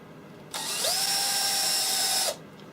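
A power drill whines at a steady high pitch for nearly two seconds while drilling into wood, starting and stopping abruptly, close and loud.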